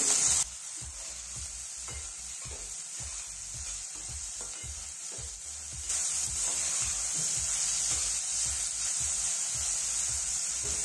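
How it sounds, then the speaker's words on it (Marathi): Steady sizzling of capsicum, onion, tomato and coriander sautéing in a pan, with a constant bright hiss and soft rhythmic stirring scrapes throughout, growing slightly louder partway through. "त्याच्यामध्ये थोडीशी टमाटे टाकू, थोडीशी कोथिंबीर। आता सर्व परतून घेऊ।"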